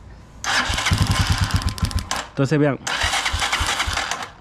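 An EK Xpress 150 motorcycle engine cranks in several rhythmic bursts of the starter, briefly catches, then cranks again without starting, with someone speaking in between.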